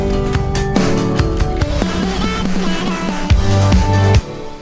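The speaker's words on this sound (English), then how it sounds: "I also added vocal chops just before the pre-chorus, just to go along with the drums" Chopped vocal fragments over programmed drums in an Ableton Live electronic track, loud and dense with choppy pitched vocal stabs and steady beats, ending abruptly.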